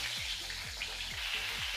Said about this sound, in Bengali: এখন আলু আর পটলটাকে ভেজে নেব।